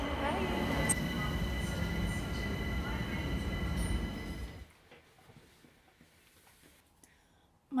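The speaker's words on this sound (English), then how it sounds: "here's my train" A train rolls into a station with a loud, dense rumble and rattling of wheels and cars for about four seconds, then drops away to a quiet platform hum with faint clicks.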